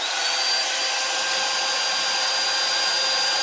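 The base element of a PureAirCurl hair styler blows a steady, even rush of air with a faint high whine, loud and unbroken with no talking.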